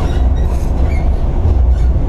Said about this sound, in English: we're on the train on our way there now